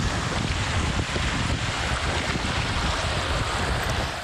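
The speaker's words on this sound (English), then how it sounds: "took to Wascana Creek on Sunday and experienced some rare whitewater conditions." Rain-swollen whitewater rapids on Wascana Creek in Regina, a dense continuous roar of rushing water, loud and close with steady wind-like noise throughout and no voices.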